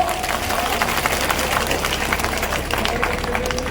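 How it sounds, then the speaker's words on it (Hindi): Audience applause at an outdoor thanksgiving gathering in Ashoknagar, a dense, steady wash of many hands clapping at once, loud and continuous with crowd noise mixed in throughout. "अगर अच्छा लगा तो ताली बजाओ।"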